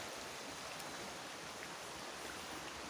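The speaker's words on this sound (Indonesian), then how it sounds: "Ini sungainya nih." A river flows steadily, a continuous broadband rush of moving water close by with no speech over it.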